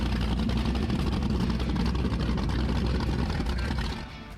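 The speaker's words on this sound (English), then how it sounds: "Let's listen into these big 630 cubic inch engines." 30-foot Eliminator powerboat with big 630 cubic inch engines at a powerboat event, a dense steady engine roar close by that drops in level near the end.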